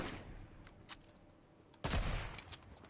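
Sniper rifle shots in Fortnite: a few sharp gunshot cracks spaced apart, with one louder, fuller blast near the end echoing briefly.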